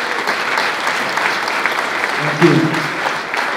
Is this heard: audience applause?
yes